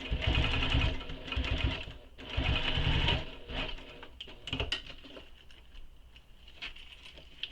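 A sewing machine top stitches a waist pack with its lining side against the machine bed, running in loud bursts with short pauses, then dropping to quieter intermittent rattles and clicks.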